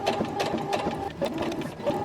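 A sewing machine stitches just beside a bra seam in short bursts of quick needle clatter, close and moderately loud, with small pauses between the runs.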